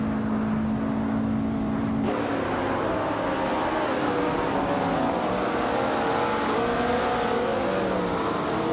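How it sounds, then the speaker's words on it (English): Vintage 1968 Porsche 912R in a racing video game, its engine droning steadily with shifting pitch as it accelerates and cruises, continuous and fairly close throughout. "Yama Priest is driving a 1968 Porsche 912R"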